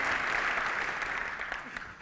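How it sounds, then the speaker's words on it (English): A conference crowd at a Java user group opening claps loudly and continuously, a dense wash of applause that tapers slightly toward the end. "Come on, I want an applause."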